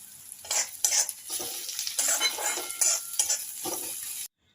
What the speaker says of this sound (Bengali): এবার আমি পেঁয়াজে অল্প নুন দিয়ে ভালোভাবে ভেজে নেব।